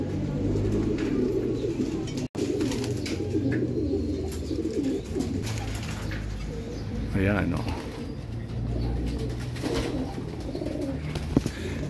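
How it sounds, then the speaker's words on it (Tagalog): Pigeons cooing and fluttering restlessly in a loft near a racing-pigeon landing board, steady low coos and occasional wing noise close by, with someone talking over them. "hindi mapakali yung ibon"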